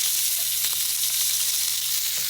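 Tomato sauce cooking down on a stovetop over medium heat, a steady close bright sizzle and bubbling hiss with a few soft pops, continuous and even throughout.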